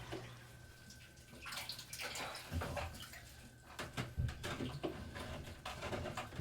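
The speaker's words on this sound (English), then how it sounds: "I started doing a water change on this tank." Water runs and splashes in uneven bursts during a water change on a home aquarium, fairly faint and close, with occasional louder gushes and no clear talk.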